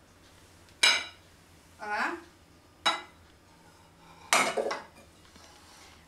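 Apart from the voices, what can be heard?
plate clinking while flipping a corn cake onto another plate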